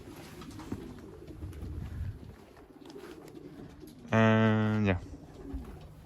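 Racing pigeons coo loudly at a loft during an old-bird race, one strong burst of layered cooing standing out near and clear amid background chatter and a brief spoken remark.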